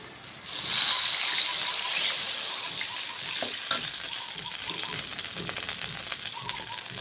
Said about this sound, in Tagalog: Lagyan siya natin ng tubig.